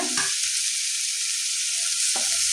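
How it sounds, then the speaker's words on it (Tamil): Chopped vegetables with salt and masala sizzle in a hot pan for a vegetable kurma, a steady close hiss of frying with a couple of brief stirring scrapes. "இந்த காய்கறி, இந்த உப்பு, மசாலாலாம் இதோடு வறுபட்டுட்டு வேக போட்டால் உப்பு காரம் நல்லா ஏறும்"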